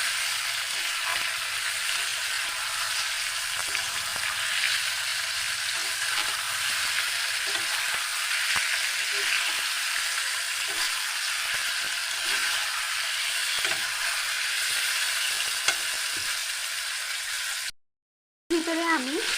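Chicken pieces frying in hot oil in a pan for Bengali-style chicken kosha, a steady loud sizzle running throughout with faint scraping from stirring, briefly cut off near the end.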